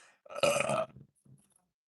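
One loud, close burp, drawn out for about half a second, followed by a faint short tail.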